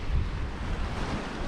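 Strong wind blowing by the sea in Seychelles, a steady broadband rush mixed with surf-like wash and microphone buffeting, with no other sounds standing out.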